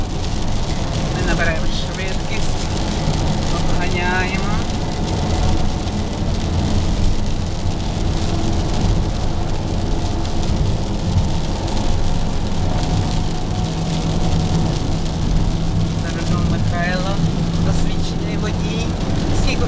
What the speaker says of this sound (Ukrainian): о, який гарний дощ